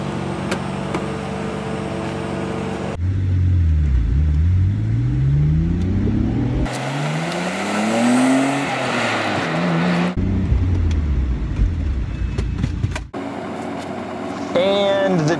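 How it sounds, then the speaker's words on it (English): A 1990 Nissan Skyline GT-R with 276 horsepower accelerating hard, engine pitch climbing through several gears with sharp cuts between shifts, loud and close. Talk can be heard around the engine noise. "We're going to start by comparing the acceleration differences between my Skyline, which has 276 horsepower, and the new one, which has 545."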